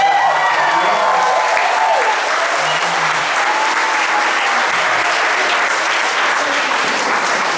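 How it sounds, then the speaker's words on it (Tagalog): A church congregation gives loud, sustained applause, a dense wash of clapping that fills the room steadily from start to finish, with a few voices calling out over it. "Isang malakas na palakpak."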